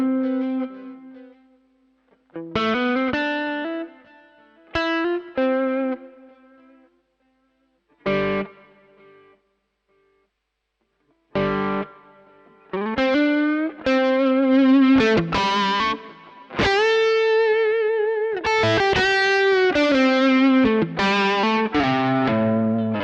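An electric guitar played through a Neural DSP Quad Cortex with distortion, digital delay and reverb rings out in loud, saturated phrases and sustained chords separated by short silent gaps, with no talking.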